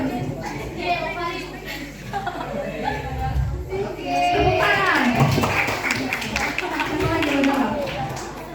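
Students at a teen reproductive health session break into a burst of clapping partway through, mixed with chatter, laughter and speech from the group.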